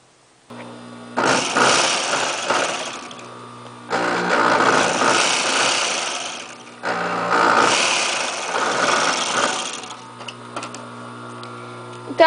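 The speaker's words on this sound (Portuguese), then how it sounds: "Agora vamos fazer a barra na máquina reta." A straight-stitch sewing machine hems a pair of shorts, running in three steady bursts of rapid mechanical stitching separated by short pauses, close and fairly loud with no talking.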